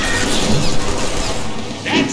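A smashing impact in the Deadpool video game, a loud crashing hit amid dense, noisy game action with a brief metallic rattle near the end.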